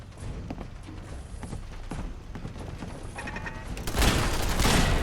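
Rapid automatic gunfire from a turret in Fallout 4, a fast crackling burst that swells louder toward the end over a busy game mix.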